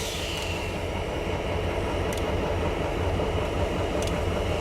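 EJ&E SD38-2 diesel locomotive rolling along the track on local work, a steady continuous rumble and wheel noise close by with faint intermittent high squeals, no voices.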